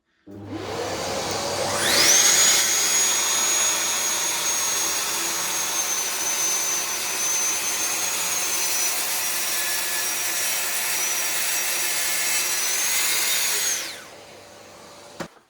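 A Festool TSC 55K cordless track saw spins up and cuts through 55mm oak in one long, loud, steady whining pass, then winds down at the end, heard close with no talking.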